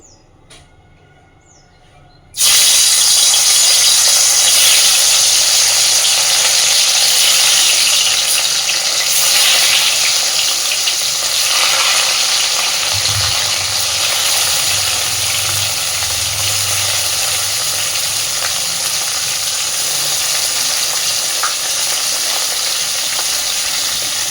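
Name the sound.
frying salted, turmeric-coated fish in hot oil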